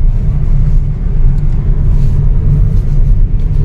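A car cruising along the Purvanchal Expressway after exiting a toll lane makes a loud, steady low rumble of road and engine noise from inside the cabin, continuous throughout with no talking.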